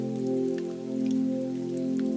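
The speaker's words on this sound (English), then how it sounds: "Rain falls in a steady sheet." Steady rain on a night street, falling in an even, continuous sheet with scattered individual drops ticking through a constant wash, no voices.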